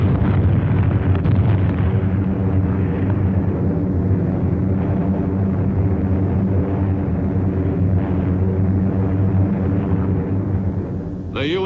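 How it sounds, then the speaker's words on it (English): Bombs from American B-24 heavy bombers exploding on Iwo Jima during pre-invasion raids, a continuous heavy rumbling barrage of deep blasts at a distance, loud and sustained throughout. "American B-24s made regular pre-invasion bomb runs to Iwo."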